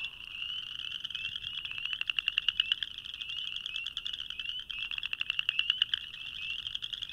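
A chorus of frogs gives loud, raspy, comb-like trills in two long pulsing bursts with a short lull between, close and continuous, with no voices over them.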